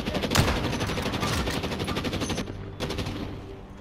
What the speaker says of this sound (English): Whoa, gunshot.